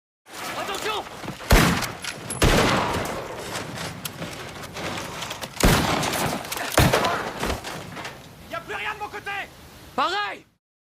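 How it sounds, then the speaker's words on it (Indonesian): A dramatized exchange of gunfire between soldiers in a Philippine jungle, with several loud bursts of shots and impacts mixed with shouting voices and crashing, dense and chaotic, ending in a yell. "sehingga saling tembak pun terjadi"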